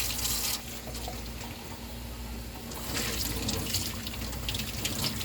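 A kitchen faucet runs into a sink while dishes are washed, a steady hissing stream that surges louder near the start and again toward the end, with splashing and clinking, close up and without talk.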